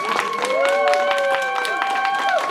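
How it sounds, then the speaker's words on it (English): A crowd at a furry convention event applauds loudly and steadily, dense clapping mixed with cheering and whooping voices throughout. "Guys, one more huge round of applause for Printer."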